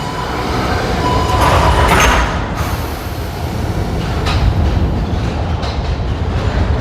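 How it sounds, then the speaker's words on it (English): A Budapest Metro Line 1 train pulls away with a steady loud rumble and rattle, close by, brakes or doors hissing briefly, then wheel noise settling into a continuous roar. "You can see the tram is about to depart,"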